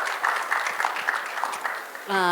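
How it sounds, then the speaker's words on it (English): Scattered hand claps from an audience, moderately close, tapering off before a voice begins speaking at the end. "Please give them a big round of applause."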